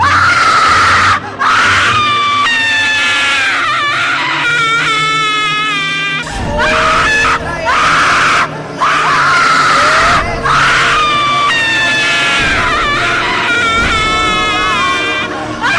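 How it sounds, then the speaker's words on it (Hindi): Horror-story sound effect of repeated loud, piercing screams in several long bursts separated by short gaps, layered over a low droning background. "तो कभी किसी के चीखने की।"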